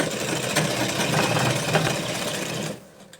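A sewing machine runs a straight stitch along the folded waistband of a man's underwear, buzzing close and steady for nearly three seconds before stopping abruptly.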